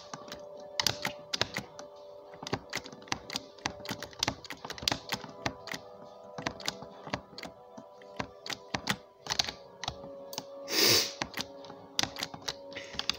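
Rapid typing on a computer keyboard while playing Roblox, a dense run of close, sharp key clicks and thunks in uneven bursts, with one louder clack near the end and no talking.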